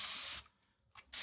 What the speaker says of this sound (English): I might even just give the other side a quick spray also